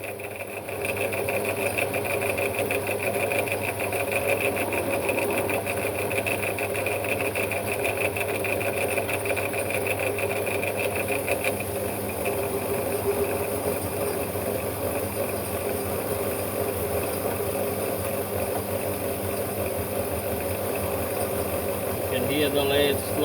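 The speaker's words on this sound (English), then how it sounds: "You can hear the lathe slowing down a bit as it's struggling with the cut." A metal lathe takes a 20 thou cut, its motor giving a steady, close mechanical hum and whine that holds on throughout, with a slight drop in pitch as it works against the load.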